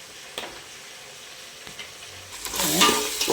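Tamarind masala curry bubbling in a pan for a fish kuzhambu, a soft steady simmer with faint stirring that swells into a louder hissing, sizzling boil toward the end, no voices.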